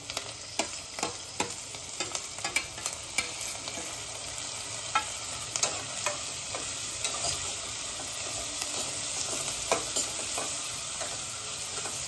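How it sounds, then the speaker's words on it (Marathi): Onion and tomato sautéing in oil on a street-food tava for pulao, a continuous bright sizzle with frequent quick clicks and scrapes of stirring, close and steady throughout, no voices. "कांदा चांगला परतला की घालायचा आहे टोमॅटो।"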